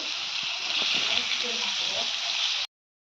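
Turmeric and chilli powder spice masala fries in a pan with a steady, bright sizzling hiss and faint stirring scrapes, cutting off abruptly.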